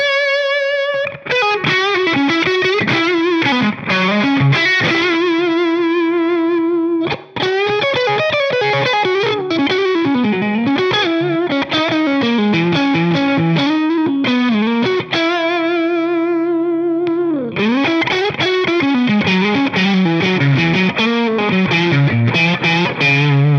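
A James Tyler HSS electric guitar plays a melodic line with a bright, airy true single-coil tone, notes ringing clearly and sustaining, with brief pauses between phrases.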